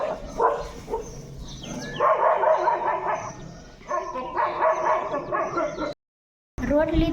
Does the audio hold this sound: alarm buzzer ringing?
no